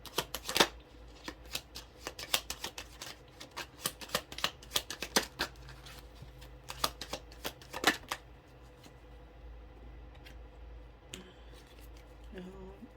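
Tarot cards being shuffled up close in a dense run of crisp riffling snaps and flutters for about eight seconds, then a quieter pause with a few soft card handling sounds.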